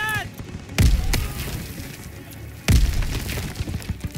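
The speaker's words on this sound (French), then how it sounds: "je lance les grenades" Two grenade explosions in the World War II shooter Call of Duty WWII, sharp heavy booms about two seconds apart, each decaying into rumble amid background battle noise.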